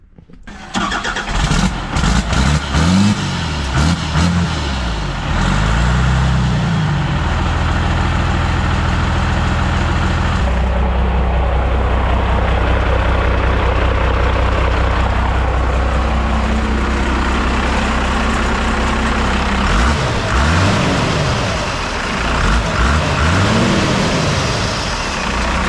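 A 1995 Ford OBS truck with a swapped Cummins diesel engine and a new downpipe starts up and revs, loud and close, rising and falling through several throttle sweeps before settling into a deep idle.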